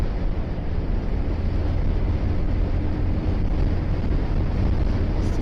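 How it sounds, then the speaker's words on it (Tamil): Steady, loud wind buffets the microphone on a moving motorcycle, a continuous rushing roar with no pauses and no voices. "காற்று சூற காற்று அடிக்குது"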